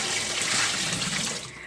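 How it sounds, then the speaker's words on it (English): Water pours steadily from a pitcher into the tub of a washer and spin dryer, a continuous splashing gush that stays loud and close, easing off slightly at the end. "So I use the pitchers to fill it up."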